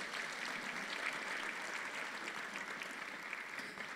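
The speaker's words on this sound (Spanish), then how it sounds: "Suelte ese aplauso con libertad al Rey." A church congregation claps steadily together in a continuous, moderately distant wash of applause with no break.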